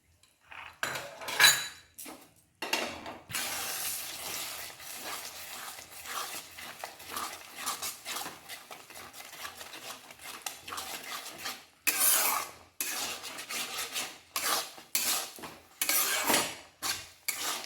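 Egg and tomato stirred and dried out in a pan: repeated metal scraping and clattering of a utensil against the pan come in uneven bursts with short pauses between, close and fairly quiet, with no talking.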